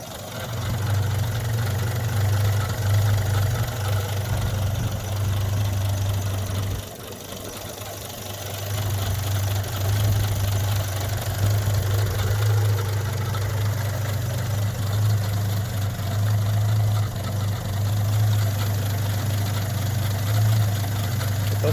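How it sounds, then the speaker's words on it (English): A Rover P4 110 2.6 saloon engine idles steadily with a low, slightly uneven rumble and a faint miss, running alone without voices for about twenty seconds. "I'll let you have a listen to the engine running."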